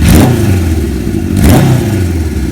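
A 1974 Kawasaki Z1 900 motorcycle with about 15,000 miles runs close by with a loud, rough mid-pitched engine note, blipped twice in short revs over a steady running rumble, with no voices.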